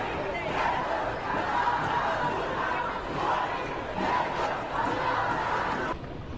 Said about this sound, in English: you can see the massive, massive crowd there